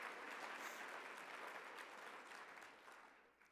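An audience at a local heroes awards ceremony breaks into sustained clapping, a dense, steady roar of many hands close by that tapers off slightly at the end.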